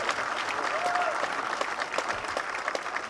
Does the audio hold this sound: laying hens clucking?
no